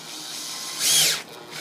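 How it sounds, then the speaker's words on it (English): A power drill pre-drilling a pilot hole for screws while a ceiling TV mount is being installed, giving one short whine that rises and fades within about half a second, close and fairly loud. "So when we pre-drill,"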